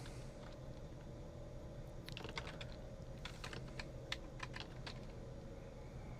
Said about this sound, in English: Let's type this over again.